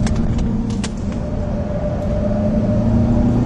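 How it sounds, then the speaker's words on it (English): A 2009 Cadillac CTS-V engine at wide open throttle, heard from inside the car as a loud, steady, droning roar that holds strong throughout with no talk. "a little bit of wide open throttle"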